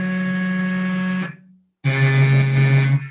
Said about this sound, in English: those reeds inside sound like this when we play a note